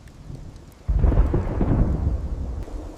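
A thunderstorm rolls in: faint rain hiss, then a sudden loud, deep thunderclap that rumbles on for a couple of seconds over steady rainfall.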